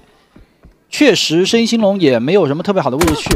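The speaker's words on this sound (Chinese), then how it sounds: "开几枪对方直接倒了" Gunfire in a PUBG esports match at the PCL 2023 Summer tournament: a few faint shots early, then sharper bursts near the end, mostly under loud, excited Chinese-language commentary.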